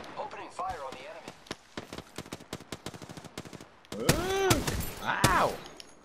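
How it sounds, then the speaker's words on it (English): Rapid video game gunfire crackles in fast bursts as players open fire on the enemy, followed by louder explosive hits, while players talk over the shooting. "Opening fire on the enemy."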